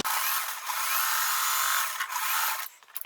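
A sewing machine top stitches a crumb quilt block edged with fabric selvages, running as a steady, loud mechanical whir for nearly three seconds before slowing and stopping, with no talking.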